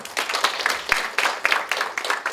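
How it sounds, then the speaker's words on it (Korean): An audience at a community forum in Gyeonggi-do claps for a panel speaker, a short burst of moderately loud applause with many overlapping claps that pulses unevenly for a couple of seconds. "박수 한번 보내주세요."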